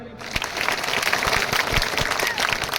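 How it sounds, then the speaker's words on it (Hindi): A large crowd at a political rally and public meeting in Dabra and Bilaua applauds loudly. The clapping is sustained and dense, with a few sharper claps standing out, and voices are mixed in underneath. "अगर होना चाहिए तो ताली बजाओ।"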